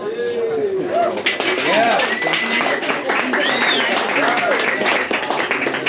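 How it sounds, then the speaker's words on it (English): An audience at a poetry reading claps steadily and close, with whoops and whistles rising over the applause and voices talking through it. "That was some good applauding."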